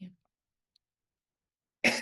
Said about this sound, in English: Apologize for all the coughing